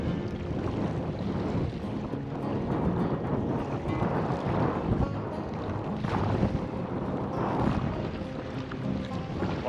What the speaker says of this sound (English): Why are the waves so big all of a sudden?